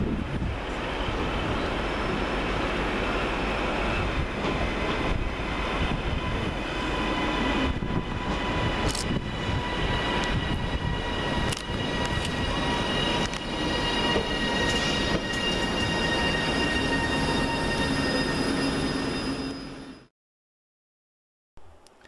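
Two coupled Northern Rail class 331 electric units pull into Manchester Oxford Road station on a slightly delayed Hazel Grove to Blackpool North service, with a steady loud rumble of wheels, motors and rail noise for about twenty seconds before cutting out abruptly.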